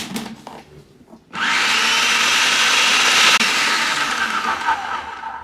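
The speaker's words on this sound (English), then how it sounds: "we are done with the food processor" A food processor whirs on, preparing gluten-free flour dough: after a quiet moment a loud steady motor roar starts abruptly and runs continuously at close range.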